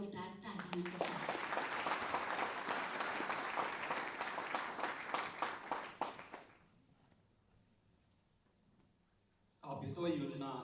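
Loud crowd applause at a Uttar Pradesh government launch event for the Abhyudaya scheme rolls for about six seconds, then fades to quiet room tone before a voice begins speaking.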